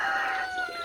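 Rooster crowing in a backyard chicken coop, a single loud, close call with a sustained strained tone filling the short clip, no voices.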